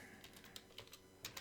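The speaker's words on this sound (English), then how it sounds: "I can just start typing" Someone types on a computer keyboard, entering a short label as quick, light, irregular key clicks that sound close but quiet.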